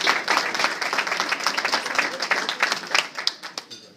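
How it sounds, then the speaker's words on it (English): An audience at a magazine talk event claps to welcome a county executive to the stage. The dense applause runs steadily, then thins out and fades near the end. "Let's give him a round of applause and welcome to the stage."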